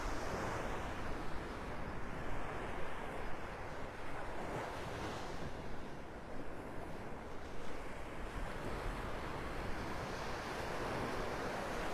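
Gulf of Mexico surf at Delnor-Wiggins beach in North Naples, Florida, rolls in as a steady broadband wash of breaking waves, with wind buffeting the microphone throughout and no voices.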